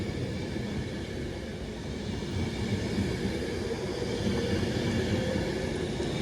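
A steady, low rumbling drone of electric passenger train 390-131 passing Macclesfield station toward Manchester Piccadilly, continuous and fairly even, swelling slightly louder toward the end with no voices.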